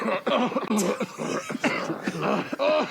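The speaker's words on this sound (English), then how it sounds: "I'd ask it to cough, and it might sound like..." Several rough, broadband coughs and throat-clearing bursts played from a soundboard, fairly loud and close, repeated in quick succession.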